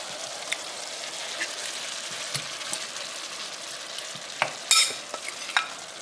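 Shrimp sizzle in a pan with peppers, a steady moderate frying crackle beneath scattered utensil taps and a brief sharper hiss burst near the end.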